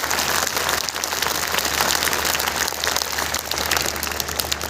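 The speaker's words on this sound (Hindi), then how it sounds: "मैं चाहता हूं एक बार इस विद्यालय के सम्मान में आगे से पीछे तक बड़ी तालियों के माध्यम से इस विद्यालय का आप सम्मान करें" An audience in a school gathering applauds at length, a dense, loud wash of clapping hands that holds steady throughout.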